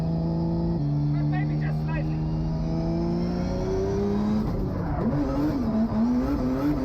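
A Nissan S15 with a 2JZ engine drifts on a track, its engine droning loud and close with shifting pitch through the run. A brief tire squeal comes mid-clip as the revs climb again.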